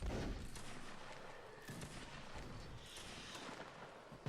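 Artillery and musket fire in the Napoleonic Wars siege battle game: dense, continuous crackling gunfire with booming cannon blasts, fairly faint and distant throughout.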